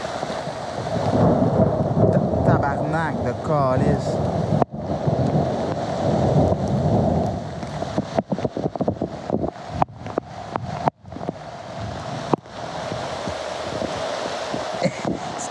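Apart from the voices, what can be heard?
thunder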